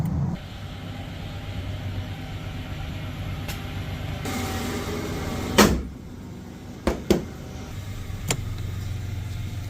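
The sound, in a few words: Ford Ranger pickup truck engine running after starting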